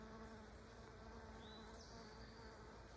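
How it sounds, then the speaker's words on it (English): A bee buzzes steadily and close by among garden plants, a continuous hum with no pauses and no voices. "Bee."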